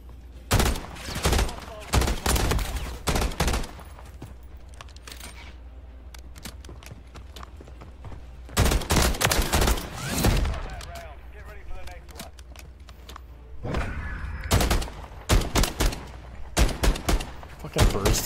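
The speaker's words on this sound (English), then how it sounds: "Fucking burst fire guns." Burst-fire guns ring out in Call of Duty MW3 gun game, with repeated loud clustered volleys in several groups separated by quieter gaps, and a voice talks in places.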